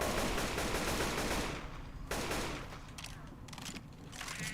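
Rapid video game gunfire bursts fill the first two seconds loudly, then sparser shots and crackling effects continue in the background of a chill stream.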